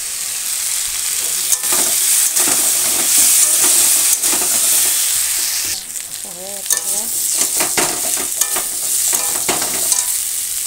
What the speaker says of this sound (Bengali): ভাজাটা হচ্ছে।